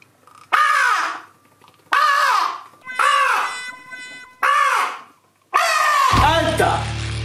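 A child imitates a crow's caw with their voice, giving five loud, drawn-out caws separated by short pauses. The last caw runs into a low hum.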